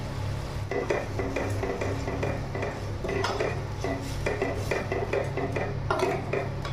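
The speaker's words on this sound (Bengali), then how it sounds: "টক দইটা দেওয়ার পর তেলটা সেপারেট না হওয়া অবধি সামান্য একটু হালকা আঁচে এটাকে কষিয়ে নেব গ্রেভিটাকে" A spatula scrapes and taps against a pan as a yogurt gravy for prawn biryani cooks on a low flame, rhythmic stirring clinks over a soft steady bubbling sizzle, without speech.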